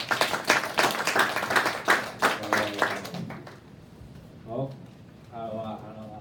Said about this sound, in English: please join me a big round of applause for Warren.